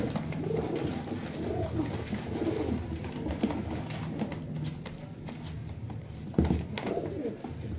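Breeder pigeons coo softly in a loft, repeated low throaty calls at a moderate distance, with faint rustling and background noise.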